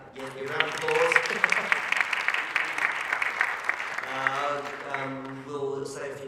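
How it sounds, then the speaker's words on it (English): Conference audience at a design principles and practices gathering breaks into a round of applause, dense clapping that swells and holds, with a voice speaking over it as it tapers off toward the end. "Yeah, give a round of applause."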